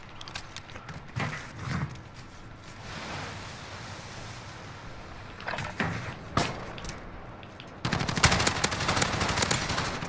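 Bursts of automatic gunfire in the video game Call of Duty: Modern Warfare, several short rattling volleys spread across the clip with a louder sustained burst near the end, no voices.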